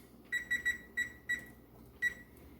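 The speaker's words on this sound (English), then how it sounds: "So now what we have to do is we're going to set us the timer." A kitchen timer beeps in short, high electronic chirps: a quick run of three, then single beeps and one more, close and clear over a quiet room.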